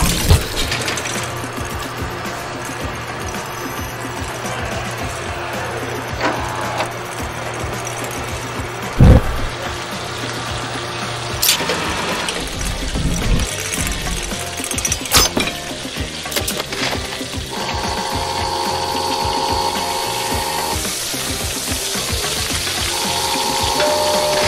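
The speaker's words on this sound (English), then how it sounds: "Put a potato in the hole on the upper right of the machine and presto!" Machine aboard the Symphony of the Seas cruise ship processing a potato into fresh food, a steady mechanical whir and hum with intermittent clunks and clicks, fairly close, running continuously with shifts in tone.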